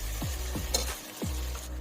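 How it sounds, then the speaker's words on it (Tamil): Tomatoes, onions and ginger garlic paste sautéing for a chicken curry, a steady close sizzle broken by a few sweeping stirs of the spatula against the pan. "தக்காளியும் வெங்காயமும் இந்த இஞ்சி பூண்டு பேஸ்டோட சேர்ந்து நல்லா ஸ்மாஷ் ஆகுற வரையும் வதங்கணும்."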